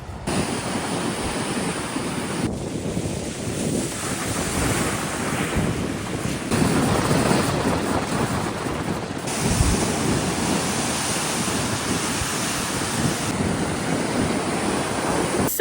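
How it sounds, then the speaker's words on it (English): Waves surging onto a beach near 1770, Australia, in strong wind, a steady loud roar of surf with heavy wind buffeting the microphone throughout and no voices. "you then come up to the beach"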